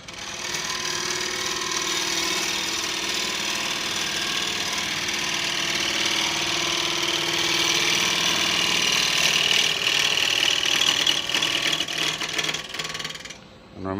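A wood lathe spinning as a gouge cuts an Irish red oak shamrock dish, giving a continuous loud droning hum and shaving hiss that builds, then cuts off abruptly near the end.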